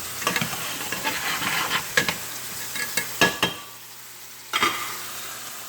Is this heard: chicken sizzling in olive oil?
yes